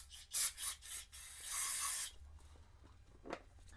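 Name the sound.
spraying cleaner on Honda GL1200 Goldwing brake parts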